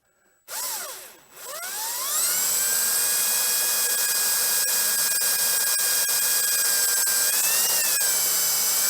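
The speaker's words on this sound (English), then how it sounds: "so I'm going to drill in there." A power drill bores into the hollow frame of an RV screen door, the motor whining up briefly, dipping, then spinning up to a loud, steady high-pitched whir that holds for several seconds with a slight wobble near the end.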